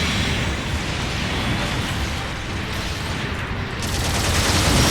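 Dense, continuous gunfire and explosive rocket blasts fill a battle in the Mobile Suit Gundam Battle Operation 2 video game, loud and unbroken, with no clear talk over it.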